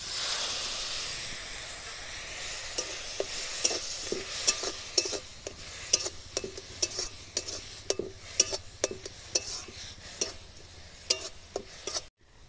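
A spoon scrapes and stirs coconut, sugar and a little water in a hot wok for a sweet filling, with a steady hiss of sizzling and sharp, irregular scraping clicks throughout, then a sudden stop at the end.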